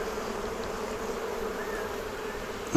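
Honey bees buzz steadily around an opened hive during a split, a continuous droning hum close by with no talking.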